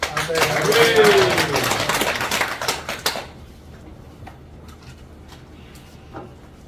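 A church congregation gives the pastor a round of applause at a morning service, a dense burst of hand claps that stops abruptly partway through, leaving quiet room tone with a few faint sounds.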